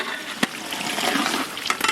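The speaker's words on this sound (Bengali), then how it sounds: "আমরা 2 মগ জল দিয়ে দেবো।" Two mugs of water poured into a hot cooking pot of boiled vegetables for a Bengali rohu fish curry, a brief gushing splash and hiss after a sharp knock, close and fairly quiet.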